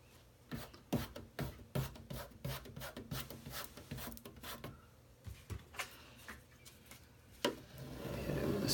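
A squeegee rubs repeatedly over a vinyl decal cut on a Silhouette Cameo 3, making close, rhythmic scraping strokes that keep a steady pace and then ease into a rougher, continuous rub at the end.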